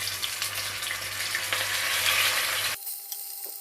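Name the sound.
oxtail pieces frying in ghee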